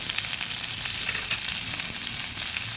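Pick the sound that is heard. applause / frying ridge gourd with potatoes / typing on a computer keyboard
frying ridge gourd with potatoes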